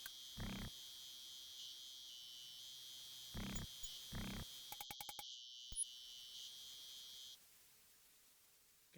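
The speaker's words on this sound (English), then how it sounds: "You can hear frogs." Synthesized frog croaks from The Colonel's Bequest, heard outside a plantation mansion: three separate buzzy pulsing calls over a constant electronic drone, then a quick rattling burst before the drone cuts off, leaving near silence.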